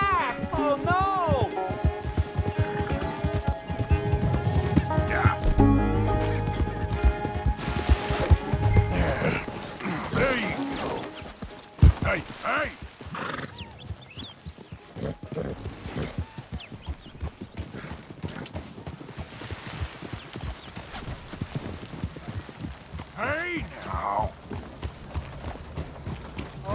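Horse hooves clip-clopping with snorts and a whinny in the video game Red Dead Redemption 2, loud and close with a crashing thud midway, under bursts of talk and game music.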